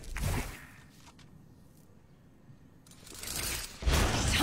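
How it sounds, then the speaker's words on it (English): A weapon reloads in the Valorant shooter game: a few quiet mechanical clicks and clacks, with brief louder whooshing bursts at the start and end and no talking. "Reloading."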